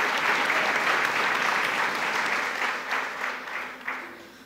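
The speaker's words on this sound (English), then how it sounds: "Go ahead and clap it up." An audience at a UC Berkeley symposium on 400 years of resistance breaks into dense, even applause that holds steady before thinning and tapering off toward the end.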